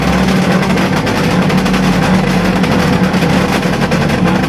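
Engines with open pipe exhausts drone in a loud, steady low rumble with a constant buzzing hum, no clear rev peaks, heard alone.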